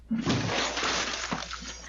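A glass door smashed through by a punch, bursting outward in one loud shattering crash followed by a brief trailing spray of breaking shards, close and harsh.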